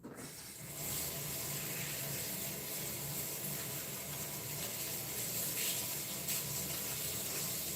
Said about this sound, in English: I'm just washing my hands, you guys.